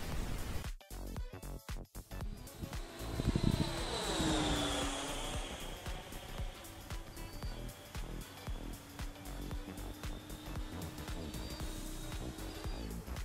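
The electric ducted fan motor of a Byron F-16 RC jet, running on LiPo batteries, spools up with a rising whine that sweeps higher and then settles into a steady high hum, close by and broken by crackling interruptions.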